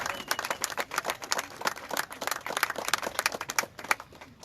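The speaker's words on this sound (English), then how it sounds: "Yeah, give him a round of applause." Scattered applause from attendees at a press conference for Breonna Taylor's family, a loose patter of claps at moderate distance with no talking over it.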